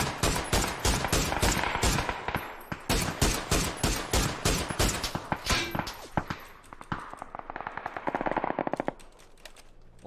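A new full-auto gun in a video game fires in rapid bursts, a loud run of sharp shots, then a short pause and another faster burst near the end.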